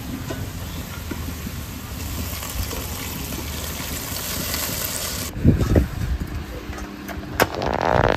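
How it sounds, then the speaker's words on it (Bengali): Water poured into a pan of spice-coated meat gives a steady hissing rush, with louder splashy bursts near the end and no talk. "এর মধ্যে জলটা দিয়ে দেবো"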